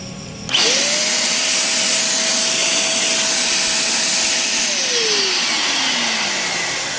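A Stanley vacuum cleaner rewired from 110 V to 220 V switches on with a sudden loud whine that spins up to a high steady motor pitch, holds, then sags lower as it winds down.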